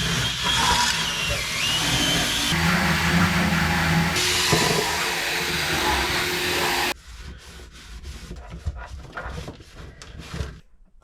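A vacuum cleaner working inside a Peugeot 206 during a full interior clean runs with a loud, steady roar for about seven seconds, then drops away to quieter, uneven rustling and bumping.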